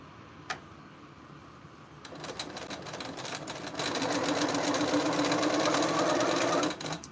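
A sewing machine chain piecing quilt blocks from scraps runs in a steady rapid stitching whir, starting softly, then growing louder and continuous for several seconds before stopping, close by with a brief tap at the start.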